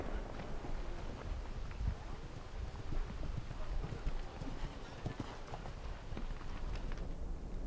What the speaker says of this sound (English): this horse wouldn't be the easiest ride in the world, but my goodness, it does jump